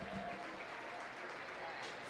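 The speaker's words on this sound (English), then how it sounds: "Give them a big round of applause." Audience applauding at a county fair livestock show in an arena, a brief, faint, steady patter of clapping with crowd murmur beneath.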